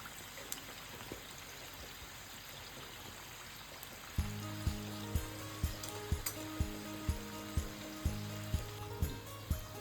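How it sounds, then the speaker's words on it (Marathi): Samosas deep-fry in plenty of oil in a kadhai over a low flame, making a steady, soft hissing sizzle that is soon partly covered by rhythmic background music. "तेल मी भरपूर टाकलेलं आहे कढईमध्ये, कारण पूर्ण आपले समोसे त्याच्यामध्ये बुडले पाहिजे, तरच ते छान फुगतात"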